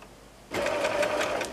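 Sewing machine stitching through quilt layers, starting abruptly after a quiet moment and running in a steady, fast whirring burst at close range for about a second.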